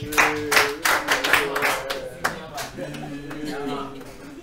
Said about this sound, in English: I want you to clap for Emmanuel.